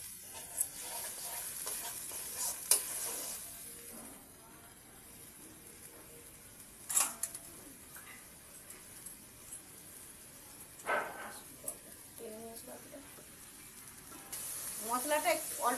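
Spice paste frying in a pan for a Bengali fish curry, a soft intermittent sizzle with scraping stirs and a few louder clatters, fairly faint throughout.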